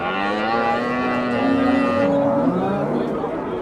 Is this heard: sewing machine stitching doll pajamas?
no